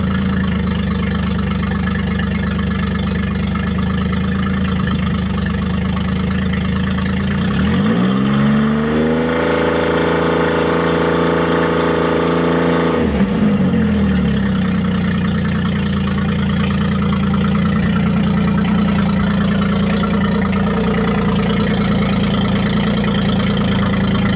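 A boat engine idles loudly and close, then revs up for several seconds into a higher, sustained drone before dropping back to a steady idle; no talking.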